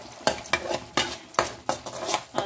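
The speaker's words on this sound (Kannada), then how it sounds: "ಅದನ್ನು ಸೇರಿಸಿ ಸ್ವಲ್ಪ ಕಲಿಸ್ಕೊಳ್ಳೋಣ, ಚೆನ್ನಾಗಿ ಮಿಕ್ಸ್ ಮಾಡ್ಕೊಳ್ಳೋಣ" Sesame-peanut powder being stirred into tamarind puliyogare gojju in a pan, a spoon scraping and clinking against the metal in steady, repeated strokes roughly every half second, close and alone.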